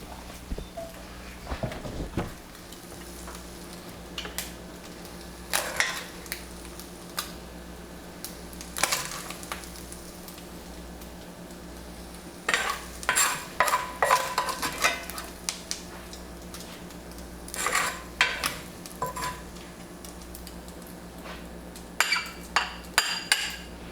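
Crispy bacon being plated, with utensils clinking and scraping against a pan and plate in scattered bursts, fairly quiet, separated by pauses with a low background hum.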